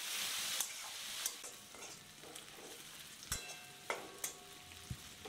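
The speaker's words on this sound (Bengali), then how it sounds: "তেলটা একটু গরম হয়ে গেলে এতে কিছুটা পেঁয়াজ কুচি ভেজে নেব।" Chopped onions fry in hot oil in a wok while a chicken dish is being cooked. A close, bright sizzle starts strong and eases off, broken by sharp clinks and scrapes as a spatula stirs the onions.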